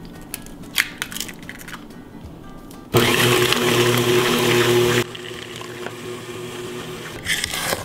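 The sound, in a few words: mixer beating eggs into creamed butter and sugar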